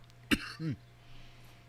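A single sharp cough, followed by a short throat-clearing grunt, in a quiet room with a low hum in the background.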